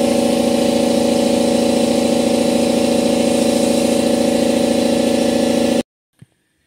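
An air compressor hums and drones steadily up close while supplying air for a cylinder leak-down test on a 2000 Toyota Celica GTS 2ZZ engine, then cuts off abruptly, followed by a single faint knock.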